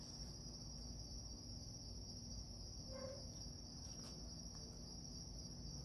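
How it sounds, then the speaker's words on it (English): Crickets chirping outdoors at night, a continuous high steady trill holding throughout, faint and even in level, with no voices. "Do you hear any crickets?"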